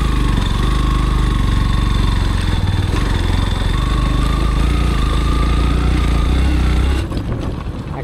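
A motorcycle engine runs close by on a rough road near a waterfall, a loud steady chugging drone that drops off sharply near the end as it shuts down or eases away.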